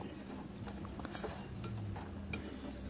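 Ginger garlic paste stirred with raw prawns and okra in a pan for a curry, a soft scraping stir over a faint steady sizzle, close and quiet with no talking.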